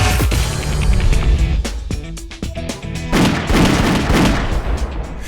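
Shotgun blasts at clay targets during a Make a Break shooting competition, several loud sharp reports in quick succession followed by dense overlapping gunfire and booming echoes.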